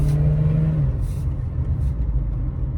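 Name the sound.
Saturn car engine running smoothly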